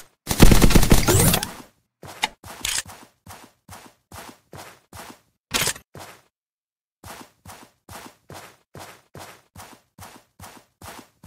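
A legendary SMG fires in the video game Zombs Royale: a dense, loud burst of rapid shots, then a long string of short, evenly spaced single bursts with a brief pause midway.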